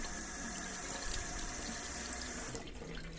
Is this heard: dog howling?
no